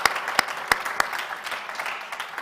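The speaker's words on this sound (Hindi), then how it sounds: "मेरा मन है कि आप सब एक बार जोरदार तालियां अपने लिए बजाएं" Audience at a Hindi poetry gathering (kavi sammelan) claps for themselves, a close, brisk round of applause with a few louder distinct claps standing out early, continuing steadily without speech.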